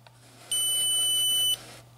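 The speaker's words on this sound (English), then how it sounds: "you place it on the wall and you just move it along the wall until it beeps" A handheld stud finder slid along an indoor wall emits one steady electronic beep lasting about a second, loud and close against a faint room hum, while hanging a hammock indoors.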